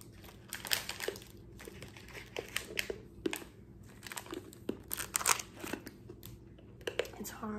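Crunchy freeze-dried candy such as candy corn and Skittles being bitten and chewed close up, giving repeated sharp crisp crunches in irregular bursts, with people talking in between.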